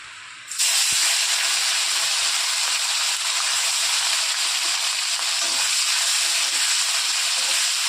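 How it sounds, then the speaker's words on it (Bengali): Salted dried fish dropped into hot oil, a loud steady sizzle starting abruptly and continuing evenly throughout, with no one speaking. "তেলটা গরম বসিয়ে দিয়েছি, আর এখন শুটকিটা আগে ভেজে যাবে।"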